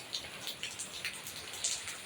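Rain falls as quiet, scattered drops that tap and patter irregularly over a soft wet hush, with no one talking.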